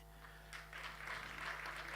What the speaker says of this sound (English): A round of applause, ladies and gentlemen, for the institutional SRC president to give a reply.